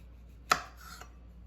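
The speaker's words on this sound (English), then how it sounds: "So let's get slicing." A single knife cut through cucumber for homemade pickles gives one sharp crisp chop with a faint follow-up tap, close and isolated.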